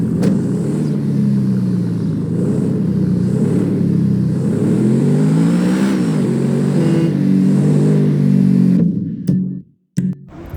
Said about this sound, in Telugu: ఒకసారి అయితే ఇంజన్ సౌండ్ అయితే వినండి గైస్.